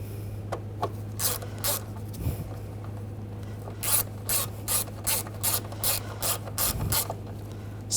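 A screw is tightened with a ratchet during replacement of the starter on a 2011-2018 Volkswagen Jetta. Close, crisp bursts of clicking ratchet strokes repeat in a steady rhythm, with a few softer metallic knocks and no talking.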